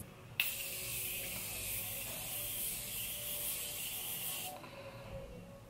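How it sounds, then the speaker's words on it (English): Morphe makeup setting spray is misted in one continuous soft hiss lasting about four seconds, close and quiet, with stillness before and after. "I'm excited to try the Morphe setting spray."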